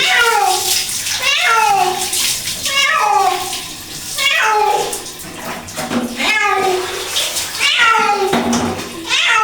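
A cat meows and yowls repeatedly while being bathed, with loud, rising and falling cries over the continuous rush of water being poured.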